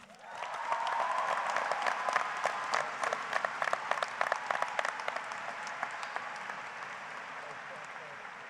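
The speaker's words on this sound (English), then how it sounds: "One more round of applause for our speakers" A high school graduation crowd in 2019 applauds its student speakers, a full burst of many hands clapping that holds strongly and then slowly tapers, with a few voices mixed in.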